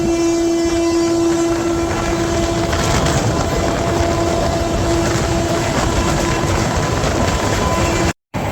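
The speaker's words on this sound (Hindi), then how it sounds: "रामपुर जंक्शन को हाई स्पीड में क्रॉस करते हुए हमारी ट्रेन" A double-decker train passes Rampur junction at high speed: a loud, continuous roar of wheels and rushing air with a sustained horn tone through the first half, heard close from on board, broken by a brief dropout near the end.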